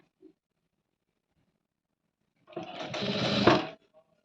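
A sewing machine stitching piping runs in one close burst of about a second of rapid, steady whirring after a near-silent stretch.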